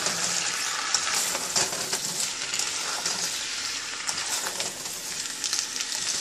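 Hakka veg noodles stir-fry in a wok, a loud, dense sizzle close by with repeated spatula tosses and scrapes throughout, and no talking.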